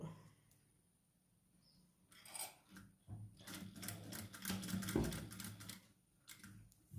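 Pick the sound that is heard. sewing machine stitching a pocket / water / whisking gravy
sewing machine stitching a pocket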